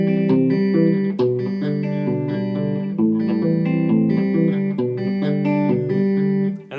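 Guitar fingerpicks a rolling pattern with the final note left out, bright, even arpeggios repeating in a steady cycle, processed with light effects and no voices.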